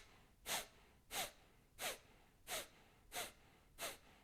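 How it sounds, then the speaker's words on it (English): Kapalabhati skull shining breath: six sharp, forceful exhales through the nose at an even pace of about one and a half per second, close and fairly quiet, with near silence between them. "and then that forceful exhale."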